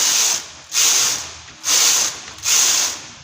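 A knitting machine carriage sweeps across the needle bed while knitting rows of a chunky cardigan: four even, hissing passes back and forth with brief gaps between them.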